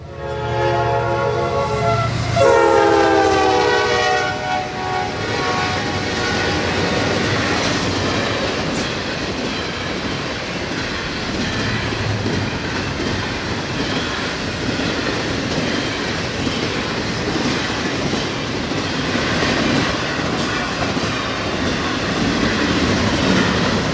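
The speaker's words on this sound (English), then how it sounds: "we heard the horn of NS 229, a Columbus, Ohio to Jacksonville, Florida intermodal" Norfolk Southern 229, a Columbus, Ohio to Jacksonville, Florida intermodal freight in Georgia, sounds a loud, drawn-out air horn early, then rumbles past steadily with continuous clattering wheels and rolling noise for the rest of the stretch.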